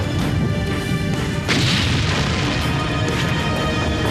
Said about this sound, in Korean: 무서운 기세로 연쇄 폭발이 일어나면서 불은 걷잡을 수 없이 번져갔다.